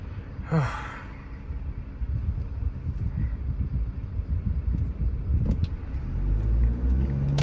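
Audi A3 converted to S3 specification accelerating from a standstill, a low rumbling engine note building steadily from inside the cabin, with a brief breathy whoosh near the start and the rumble growing louder toward the end.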